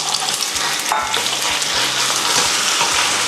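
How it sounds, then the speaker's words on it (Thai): Loud, steady sizzling of chicken frying in a hot pan for samosa filling, with occasional stirring scrapes and clatter throughout. "ตามด้วยเนื้อไก่เลยไม่รอช้านะครับ"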